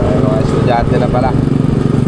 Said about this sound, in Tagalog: Bibilis nila magmotor, no?